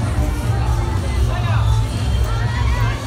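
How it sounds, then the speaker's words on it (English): A thick crowd murmur on Main Street at Disneyland Paris after the parade, many overlapping voices in a constant close hubbub with a low rumble underneath. "Fight through the crowds now."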